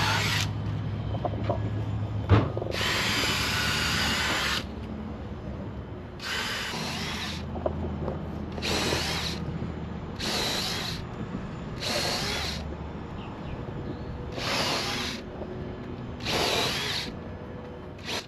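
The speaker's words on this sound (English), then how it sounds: "we have to drill pilot holes first, and then we come right back on top of it and make holes so that we can countersink all the bolts" A power drill bores pilot holes for bolts in a workshop, running in about eight separate loud bursts of a few seconds each, with brief pauses and handling clatter between them.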